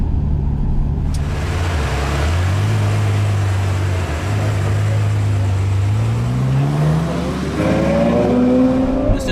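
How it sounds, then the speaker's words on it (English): A Ferrari 812 Competizione V12 supercar on the Fiorano track, its engine droning loud and close from inside, rising through the revs and shifting gears, with a sustained climbing howl toward the end. "monumental moment of significance to be driving the very latest V12 from Ferrari in the motherland at Fiorano"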